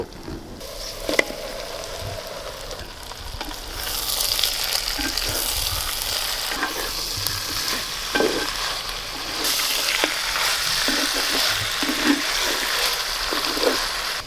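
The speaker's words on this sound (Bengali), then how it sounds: "এবার মাংসটা দিয়ে দেবো" Chopped meat with plenty of onion and ginger fries in a clay pot over a coal stove, a steady sizzle that swells as the meat goes in, with stirring scrapes and knocks throughout.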